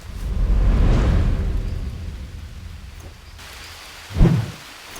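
Rain falls in a survival video game, a steady hiss with a deep rumble early on and a sharp thud near the end, no talk.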